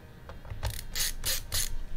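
A screwdriver turns the small screws of a Dell Inspiron 5567 laptop, making a few quiet clicking, ratcheting ticks in quick succession, close and faint.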